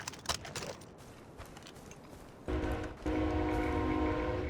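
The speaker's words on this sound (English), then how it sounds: "There's a train passing my house." A train rolls past a house late at night, its horn sounding steadily and growing louder in the second half, with rumbling wheels underneath.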